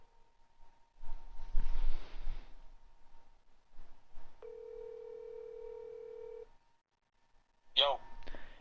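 A phone call placed during a Madden 23 stream: someone talks briefly, then a steady electronic dial tone holds for about two seconds, silence follows, and a short chirping ring tone sounds at the end.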